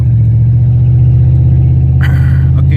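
A farm truck drives along, its engine giving a loud, steady low rumble from inside the cab, with a brief higher rattle near the end.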